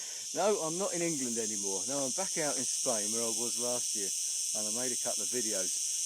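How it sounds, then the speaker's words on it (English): Loud, steady cicada drone fills a sunny hillside in Spain on a hot morning, a continuous high buzzing bed that runs under someone talking close to the microphone throughout. "Those are cicadas, and they're pretty noisy little devils."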